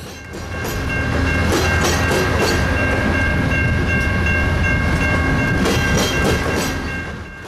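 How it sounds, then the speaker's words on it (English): An Amtrak long-distance passenger train led by P42DC and P40DC diesel locomotives rolls past close by, a loud sustained rumble with rhythmic wheel clatter and a humming engine drone that swells in and fades at the end. "P42DC number 44 and P40DC number 816 lead this train north."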